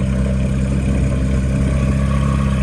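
A wrecked Porsche 911 GT3 engine runs at a steady idle, close and continuous, with a low throbbing rumble and no voices.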